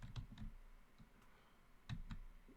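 Quiet keystrokes and clicks come from a computer keyboard and mouse in short, irregular pairs and bursts, close by and faint, with no voices.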